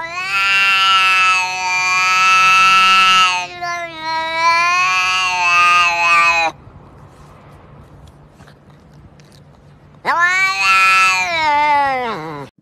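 A cat lets out long, loud, strained yowls in two drawn-out bursts, then a pause of near silence before a third sharp wail rises.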